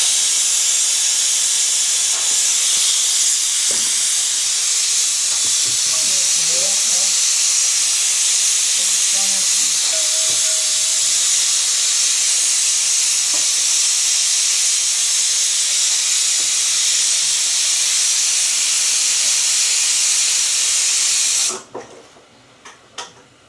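Millet rotla flatbread on a hot tawa griddle gives off a loud, continuous sizzling hiss that holds steady for about twenty seconds, then cuts off abruptly, leaving a few faint knocks.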